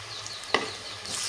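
Drumstick flower fritters fry in a pan with a soft steady sizzle, broken by one sharp scrape or clatter midway as they are flipped, then the hiss swells again.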